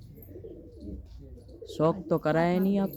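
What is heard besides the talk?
pigeons cooing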